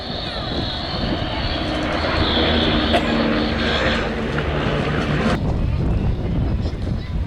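Display aircraft at the Little Gransden Airshow in England build speed and brake, a steady loud engine drone with wind noise and a shift in tone near the end, heard without talk.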